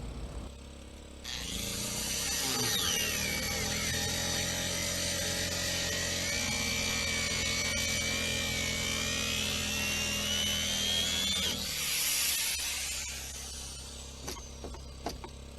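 Disc grinder cutting into an abandoned boat over five metres long, a loud sustained whining screech that holds steady for about ten seconds, then cuts off, leaving a few faint clicks.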